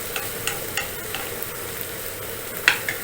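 Paneer tikka with its coating cooking in a pan, a steady close sizzle broken by occasional light scrapes and clicks of stirring.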